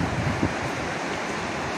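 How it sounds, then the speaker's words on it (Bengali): Sea waves at the Digha estuary on the Bengal coast, a broad steady wash of surf mixed with wind rumbling on the microphone, continuous and fairly loud with no voices. "মোহনা সমুদ্রের ঢেউ"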